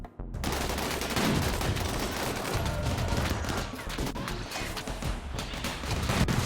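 Sustained gunfire in RimWorld, with rapid overlapping shots and bursts forming a dense, loud fusillade that runs almost unbroken and starts right after a brief silence.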